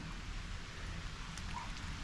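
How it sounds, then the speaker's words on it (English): Steady rain falls on a boat passing through a canal lock, a soft, even patter with no talk over it. "In the rain today, unfortunately."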